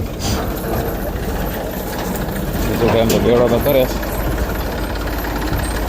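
A steady tractor engine idles with a low, continuous rumble while someone talks over it close by.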